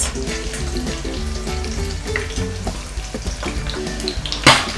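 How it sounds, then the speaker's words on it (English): Steady crackling sizzle of fish frying in hot oil, close and continuous, with a sharp spatter burst near the end. "I want to flavor the oil, so that's why I'm frying the fish."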